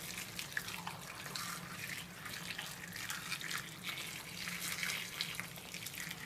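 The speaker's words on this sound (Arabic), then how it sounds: "انا باش نحط لها ماء سخون سخون بالكدا" Hot water poured from a tap or kettle onto cut potatoes for chips, a steady, fairly faint splashing stream with no talk.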